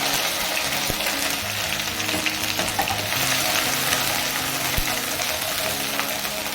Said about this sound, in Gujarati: બસ 10 સેકન્ડ માટે આપણે પેસ્ટને એમ જ સાતળશું